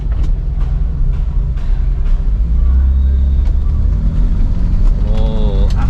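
A BMW 628 CSi, revived after sitting unmoved for two years, is driven along. A steady engine drone and road rumble fill the cabin, with a brief voice near the end.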